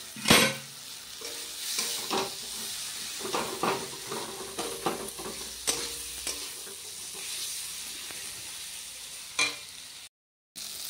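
Spice paste made with green and dried chillies sizzles in a pan while a spoon stirs and scrapes it, with repeated close clinks over a steady frying hiss.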